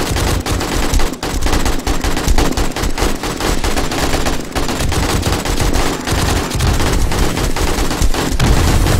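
Rapid, loud automatic gunfire in the video game 7 Days to Die, dense continuous bursts of machine-gun shots filling the whole stretch.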